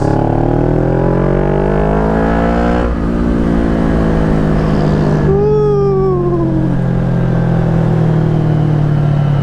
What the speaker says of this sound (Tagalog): may turbo sounds